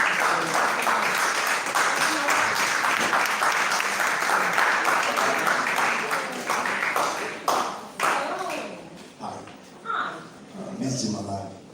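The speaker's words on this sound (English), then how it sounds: "Keep the claps coming in as he's walking into the stage." Festival crowd applauding a performer walking onto the stage, dense steady clapping that thins and fades toward the end, with voices talking under and after it.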